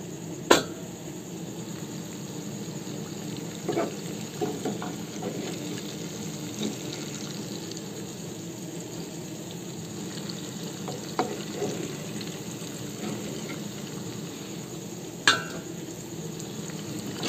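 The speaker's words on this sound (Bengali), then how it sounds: "এই যে বেশ ভালোভাবে ভাজা হয়ে গেছে," Palm fruit fritters (taler bora) made from four ingredients fry in hot oil, a steady soft sizzle and bubbling throughout, with occasional clinks of a utensil stirring and turning them, close and alone.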